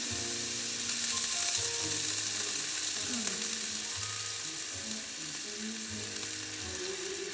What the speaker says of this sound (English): A little bit of butter and a little bit of garlic. And let that simmer for a second.